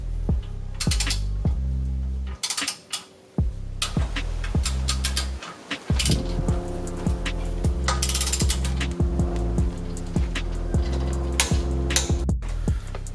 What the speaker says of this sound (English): Toyota wants you to torque these up to 60 foot-pound